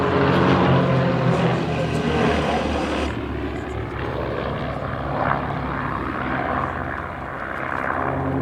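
A propeller aerobatic plane performing a barrel roll at an air show at Duxford drones loudly overhead, its engine note shifting and fading somewhat as it moves through the sky.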